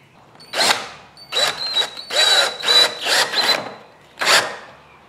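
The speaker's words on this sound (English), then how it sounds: "Now it's just a matter of driving in some lag bolts." Power drill driving lag bolts into a spindle sander table, heard as several short, loud whirring bursts with brief pauses between them, followed by one final burst.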